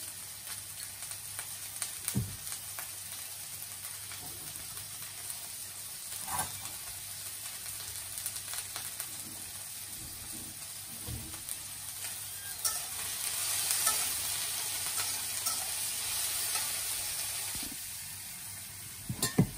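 Chopped onions fry with salt in a pan, giving a steady sizzle throughout, with several louder clatters from stirring and scraping.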